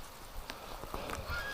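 A duck being cared for as a winter patient gives a few faint, short honks scattered through a quiet indoor moment, with soft rustling between calls.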